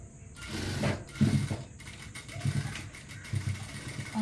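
A sewing machine stitches a cross piece onto a girls' uniform coat with the fabric fed loosely, giving soft, rhythmic mechanical chattering in short bursts, fairly quiet and close, with no talking.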